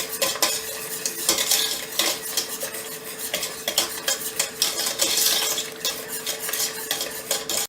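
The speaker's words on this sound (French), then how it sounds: "on mélange bien notre sucre mélangé à la pectine. Et bien fouetter, bien mélanger" A whisk scrapes and clinks briskly against a pot as sugar and pectin are beaten into mango-passion or raspberry fruit purée, rapid metallic strokes close by, with a faint sizzle underneath.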